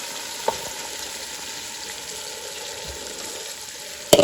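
Rice tipped into a kadhai of hot oil with curry leaves for egg biryani, frying with a steady low sizzle throughout and a sharper clatter at the very end.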